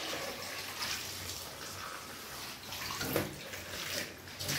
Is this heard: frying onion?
no